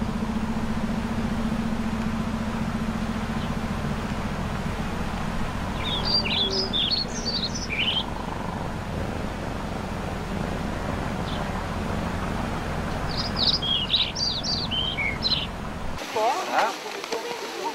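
Small birds chirp in two short bursts of bright twittering outdoors, heard over a steady low rumble of wind and a distant idling engine.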